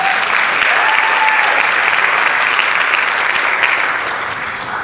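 A neighborhood community event audience claps in a loud, sustained round of applause that stays steady and full before easing slightly near the end.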